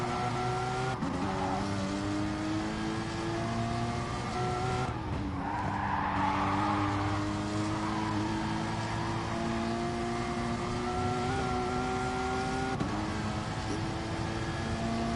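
A Porsche race car in a racing video game during manufacturer practice, its engine holding a steady high tone that drops sharply at a gear change, then climbs again, with a brief tire scrub near the middle.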